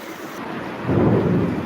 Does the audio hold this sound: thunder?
yes